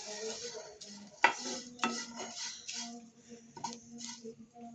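Flattened rice (aval) roasting dry in a pan, stirred with a utensil: a few distinct scraping knocks and light clicks over a faint crackle, close and fairly quiet, without speech.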